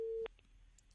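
A telephone busy tone cuts in during a Varanasi radio phone-in request show when a caller's line drops. It is a single steady electronic beep that ends abruptly, followed by faint low background hiss.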